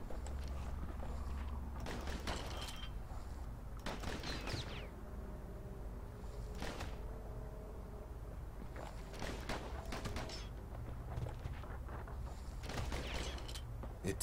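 Repeated gunfire in a Spanish-language shooter video game, sharp bursts and volleys recurring across the stretch, some louder and closer, some fainter, over a low steady background hum with no talk.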